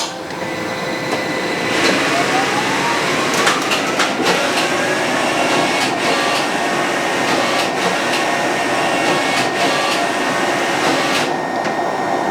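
A knitting machine on a farm runs steadily as it knits a jumper, a dense mechanical whirr with repeated clicks and clacks as the carriage makes its pass, close and continuous without speech.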